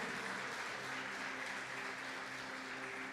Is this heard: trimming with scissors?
no